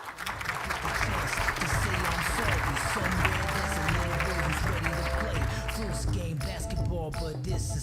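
An audience at the State of Indian Nations Address applauds and cheers to welcome speakers to the stage, a dense, sustained crowd roar that thins out toward the end, with a voice over a public address system heard through it.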